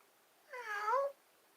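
A person imitates a cat's meow with a single drawn-out, rising-then-falling vocal call, heard close and alone against quiet.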